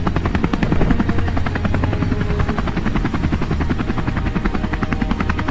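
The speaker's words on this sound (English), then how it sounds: "The helicopter has come." A helicopter arriving in the sandbox game Melon Playground, its rotor thumping in a steady, rapid, loud drone throughout with no talk.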